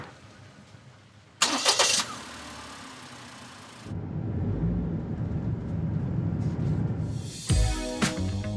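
Car engine cranks and catches in a quick burst, settles into a low idle, then pulls away with a steady mid-pitched drone and a brief louder rev near the end, close and clear.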